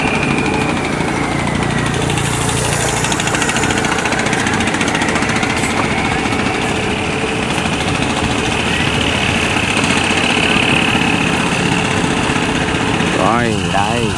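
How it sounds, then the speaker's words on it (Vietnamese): Continuous low rumbling engines of barges and motor boats passing through the Tà Niên salt-prevention sluice gate, a steady droning idle with mechanical vibration throughout and a brief horn-like tone near the end. "vậy mà cũng là 3 chiếc xà lan nữa nha các bạn"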